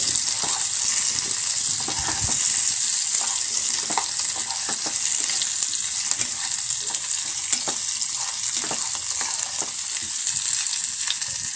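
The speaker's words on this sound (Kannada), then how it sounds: "ನಿಂಬೆಹಣ್ಣು ಸ್ವಲ್ಪ ಎಣ್ಣೆಲಿ ಫ್ರೈ ಆದರೆ ರುಚಿ ಚೆನ್ನಾಗಿರುತ್ತೆ." Peeled lemons and fresh coriander fry in oil while being stirred for a traditional gojju, producing a steady, bright crackling sizzle throughout with occasional sharper pops and spatula scrapes.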